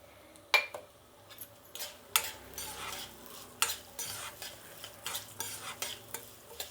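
White sesame seeds and lentils frying in a kadai, a low sizzle broken by scraping stirs and sharp metallic clinks of the spoon against the pan at an irregular pace.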